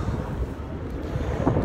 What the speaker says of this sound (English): Bit windy today.